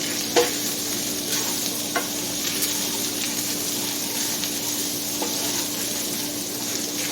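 Meat browning in a pan on medium heat, giving off a steady, close hiss of sizzling with a few faint clicks, under a constant low hum.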